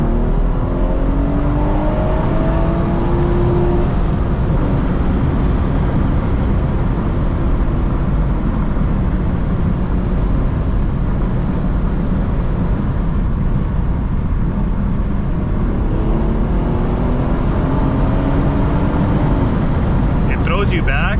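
A BMW 440i fitted with a flex fuel kit accelerates hard, its engine droning loudly and rising in pitch through the revs under heavy road and wind noise, with a short pitch drop partway through as gears change.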